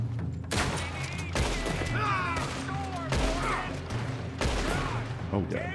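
Bursts of gunfire in a Red Dead Redemption 2 shootout, several loud volleys spaced a second or so apart, with a voice talking between shots.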